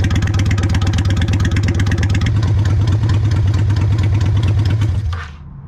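A 30-year-old Honda Shadow motorcycle engine idles steadily while warming up, a loud, close, even low throb with a rapid firing rhythm that holds for about five seconds before cutting off abruptly.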